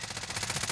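Rapid automatic gunfire in a video game, fired from a crane, rattling in a dense continuous burst with no pauses.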